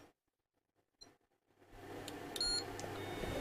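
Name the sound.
beep from a capacitor tester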